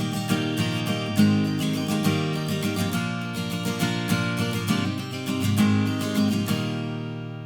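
Up-tempo acoustic guitar strumming with a green 0.88 mm Dunlop Tortex pick, a busy, bright rhythmic pattern of quick downstrokes and upstrokes, close and loud, ending with a ringing chord.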